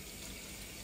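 Tap water runs steadily from a faucet to rinse sago, a faint continuous splashing stream with no pauses.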